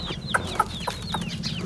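A caged partridge calls in a series of short, sharp chirping notes repeated about four times, close and clear over a low steady background hum.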